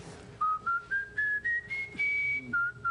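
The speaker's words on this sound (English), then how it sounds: "Whistle a little something for us." A man whistles a jazz tune, a clear close melody of separate rising phrases with short breaths between notes, heard alone.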